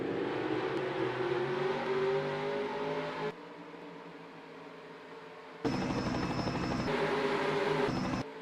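Race cars roll toward the green flag of a 120-mile race at Charlotte Motor Speedway, their engines a loud, steady roar. The sound drops abruptly in the middle, then returns at full strength.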